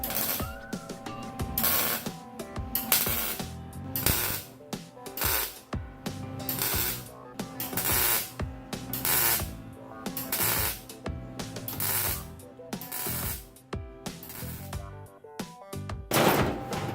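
Tack welds laid down on a car's trunk floor during a trunk floor installation, a run of sharp crackling bursts separated by short gaps, loud and close with no talk.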